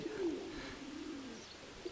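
Pigeons coo softly nearby, a low, murmuring call that swells near the start and fades, with faint background ambience and no talk.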